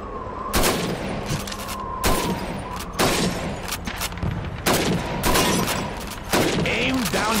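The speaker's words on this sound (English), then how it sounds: "Shoot those bottles and plates." Rifle shots at bottles and plates on a shooting range in Call of Duty 2, five loud, evenly spaced cracks roughly every one and a half seconds, each ringing out over a steady background of battle ambience.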